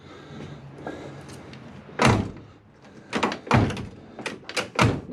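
A 1971 Chevrolet Nova door is shut repeatedly, giving a series of solid, close thunks and slams in quick succession after a quieter stretch of shop noise.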